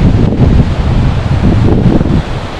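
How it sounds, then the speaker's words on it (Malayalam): Wind at Thumboormuzhi buffets the microphone in loud, rumbling gusts, with a steady rustle of leaves beneath, close and continuous with slight swells in strength. "കാറ്റും കുളിരും ഒക്കെ ആയിട്ട് സമാധാനം."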